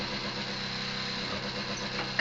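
Steady low drone of a single-engine boat running, fairly quiet and even throughout, with a sudden sharp noise right at the end.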